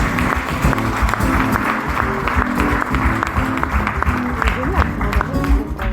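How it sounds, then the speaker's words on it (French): Steady applause from a comedy show audience fills the room for several seconds, dense clapping close and lively with a murmur of the crowd beneath, no voice over it. "Vous pouvez l'applaudir aussi."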